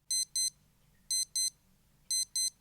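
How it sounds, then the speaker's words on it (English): Three pairs of sharp, high-pitched electronic beeps from a Casio digital watch alarm, evenly spaced, loud and close, with a faint low hum between them. "what I really love about this watch is how nice and loud the alarm is"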